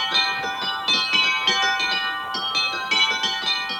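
Small, light change-ringing bells ring in a barn at Capheaton, with the tenor weighing about ten pounds. Bright, clear strikes follow in a steady, overlapping cascade, close and loud, with no talk.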